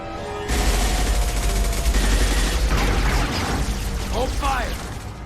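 Heavy sustained gunfire from a Mass Effect 2 cutscene, a dense loud barrage with low booms that fades toward the end, with short voiced shouts near the close.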